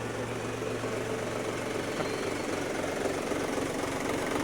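An Iseki TU-180PS tractor engine idles steadily with a continuous low, throbbing diesel rumble and slight knock, close and even throughout.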